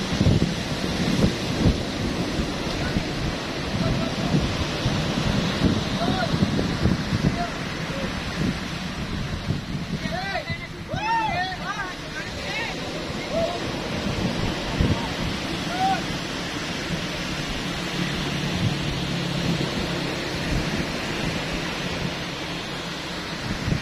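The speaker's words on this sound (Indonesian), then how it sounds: "masih gede ya kondisi ombaknya di kawasan Pantai Timur" Big waves crash and surge at Pangandaran East Beach, a continuous loud roar of surf with rolling swells, and a voice briefly heard partway through.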